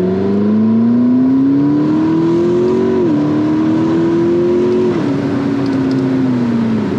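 McLaren MP4-12C engine accelerating through the gears from low revs, a loud, steady rising drone with two brief dips at gear changes, heard close from inside the car, no talk.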